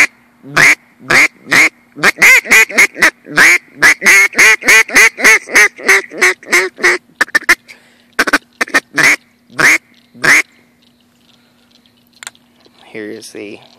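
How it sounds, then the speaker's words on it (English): An L&L mallard hen duck call blown in a long series of loud, raspy quacks, quick and rhythmic at first, then slowing into spaced single quacks before falling silent. "Here is the L&L Mallard hen call."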